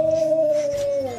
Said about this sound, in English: Good howl, Sophie.